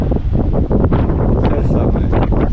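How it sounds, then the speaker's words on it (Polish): Wind blows across a seaside balcony in Orebić, Croatia, a loud continuous rumbling buffet with gusty rustles throughout. "te same wyspy na horyzoncie i tak samo wiejący wiatr z tego samego kierunku co rok temu"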